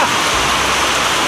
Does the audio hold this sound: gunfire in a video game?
no